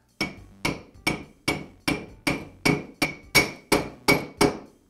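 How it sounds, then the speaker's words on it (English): Mallet tapping a socket to seat the armature shaft of a DeWALT router into its bearing during a motor repair, a steady series of about ten crisp, ringing knocks at a regular rhythm, close and alone. "I'll use a socket on the end of the armature shaft and a mallet to set it into the bearing"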